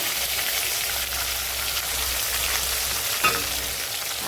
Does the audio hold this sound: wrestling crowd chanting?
no